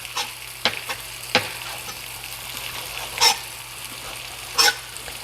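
Salmon frying in a skillet, a continuous close sizzle punctuated by several sharp crackles and pops, with no talking over it.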